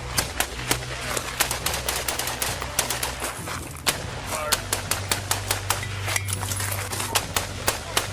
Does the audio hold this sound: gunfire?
yes